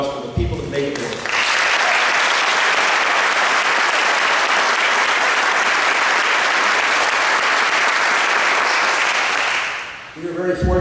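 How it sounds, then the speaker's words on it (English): An audience at a college Wall of Honor ceremony bursts into loud, sustained applause lasting about nine seconds before dying away, with brief speech at the start and end. "One more round of applause for the people that make it work."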